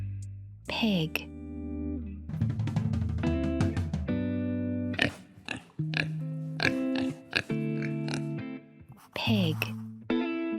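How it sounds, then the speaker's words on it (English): A pig oinking in short, voiced grunts, repeated several times in separate bursts with brief pauses, close and clear; the sound is processed and heavily effected, alternating with a spoken voice. "Pig."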